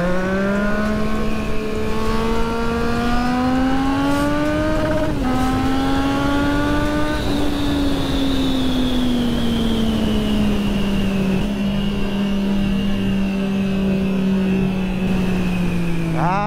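A Triumph Street Triple motorcycle is ridden through city streets at night. Its engine is loud and close, revving in rising and falling sweeps, then settles into a sustained drone.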